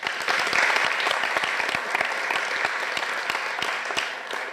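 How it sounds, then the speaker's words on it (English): An audience applauds a visiting professor before a lecture, with sharp individual claps standing out in a steady, fairly close round of clapping that tapers off at the end. "I would like to have a big applause for Sьюзан Блэкмор, visiting professor of the University of Plymouth."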